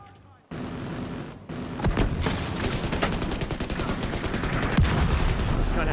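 Sustained automatic gunfire in The Division 2, a low-recoil rifle fired in a firefight against hostiles while an autocannon fires nearby. The bursts are dense and continuous, with loud cracks over a constant rumble of battle.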